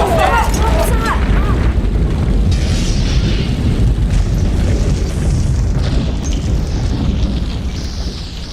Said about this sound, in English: Oh, we just blew up our rocket, that's all.